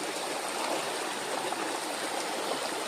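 Steady rush of a flowing stream, continuous broadband water noise with no distinct splashes of someone stepping in, fairly close and without voices.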